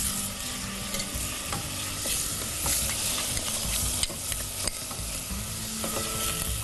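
Garlic stirred into a frying stew base in a pot for an okra stew, with a steady close sizzle and repeated spoon-scraping stirs throughout and no speech.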